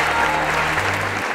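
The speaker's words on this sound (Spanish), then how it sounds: "quiero un fuerte aplauso por todo el trabajo que están haciendo." An audience at a DIF public report event in Huixquilucan breaks into steady, dense applause, loud and close, sustained for the whole moment before fading at the end.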